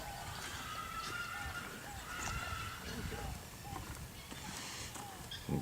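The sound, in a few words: guinea fowl calling agitatedly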